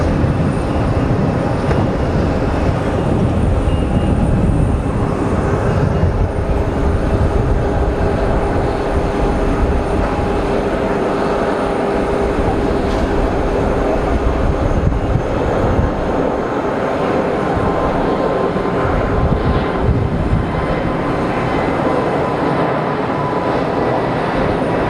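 A jet takes off at Geneva Airport, its engines rumbling loudly and continuously across the whole stretch and holding a steady roar as it climbs; no voices are heard.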